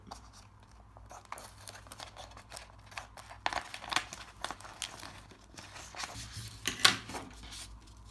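Scissors cut through a vinyl sticker sheet in short crisp snips and crinkles, quiet and close, with the brief bursts growing a little louder toward the end.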